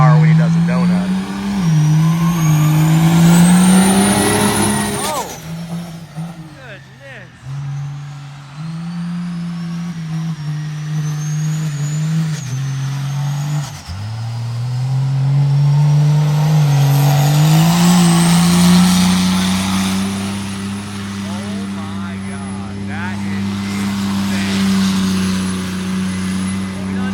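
A Cummins diesel monster truck engine revs hard during a donut, loud and close, its pitch climbing and dropping in sustained surges over nearly half a minute.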